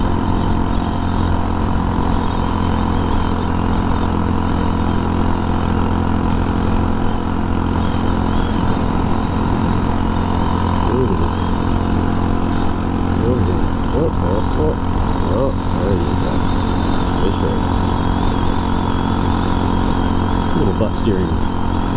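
A Cub scooter's engine drones steadily as it cruises along the open road during a long-distance scooter rally, a constant close hum with wind rush that never lets up.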